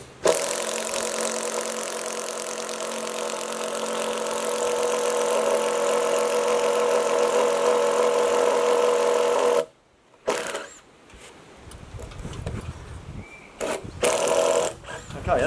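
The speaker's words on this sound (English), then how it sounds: "So I'm going to countersink in, that'll let the bolt head get down to about here somewhere," A drill running steadily while countersinking a bolt hole, a continuous loud whirring drone for about ten seconds that cuts off, followed by quieter handling clatter and short bursts of noise.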